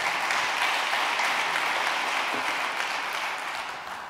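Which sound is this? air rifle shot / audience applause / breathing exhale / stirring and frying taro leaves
audience applause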